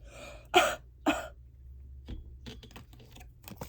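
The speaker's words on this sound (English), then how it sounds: "Like that cough." Two loud coughs close together, followed by faint clicking and tapping in a quiet room.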